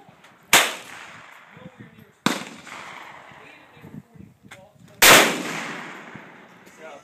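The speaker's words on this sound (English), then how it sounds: "You shot that thing about 40 feet in the air." Three sharp, loud cracks from a .204 Ruger Thompson/Center Encore rifle fired at cans outdoors, spaced a few seconds apart, each trailing off into a short echo, with faint voices between shots.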